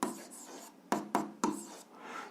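Pen scratching out numbers on paper during an algebra exercise, close and soft, with short strokes and a few sharper taps.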